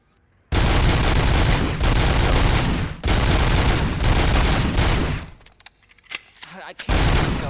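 Loud bursts of automatic fire from a new gun in Robocop: Rogue City, several long sustained volleys with short gaps, then choppier bursts near the end, close and dominant.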